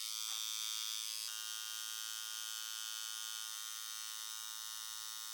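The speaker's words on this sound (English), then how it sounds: "With everything set, ink caps filled, machine ready, I get into the outline." Electric tattoo machine buzzing steadily and closely while outlining a peony cover-up tattoo, a continuous bright whine with one short stop and restart near the start, no talk.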